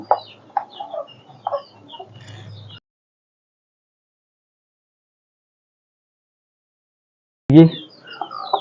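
Country hens cluck close by in short bursts, a cluster of calls at the start, then a pause, then another sharp cluck and a few softer ones at the end.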